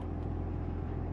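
A BMW car engine idles just after being started, a steady, close, low rumble with an even throb and no voices.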